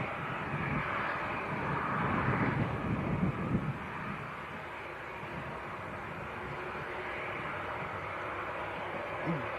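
Jet2 airliner on approach to Leeds Bradford Airport, a broad steady engine roar and rush that holds fairly loud and even throughout, with wind buffeting the microphone.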